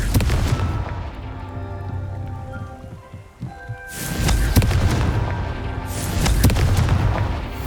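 A Confringo fire spell explodes in the Hogwarts Legacy video game, delivering loud booming blasts with crackling debris, joined by a second burst later, set against a steady ambient game backdrop.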